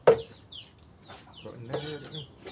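Chickens clucking nearby in short separate bursts, with a sharp sound at the start and a voice briefly mixed in.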